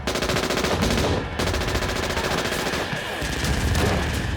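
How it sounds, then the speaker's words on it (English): Gunfire in a night battle in Afghanistan, fighters shooting down from a rooftop at Taliban attackers: loud, rapid automatic bursts crackle almost continuously, with one brief gap before the firing resumes. "they were firing down at the Taliban as the Taliban assaulted their home, and they're firing into the darkness."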